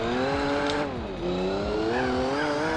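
McLaren F1 in Gran Turismo 4 pulling away under acceleration, a loud engine whose pitch dips at a brief gear change and then climbs again, with light tire squeal and no speech.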